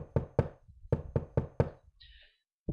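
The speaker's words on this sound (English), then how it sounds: "all of a sudden there was a knock" Six sharp knocks on a door, close and clear, fall in two quick groups with short gaps between, then a faint higher rustle and near silence.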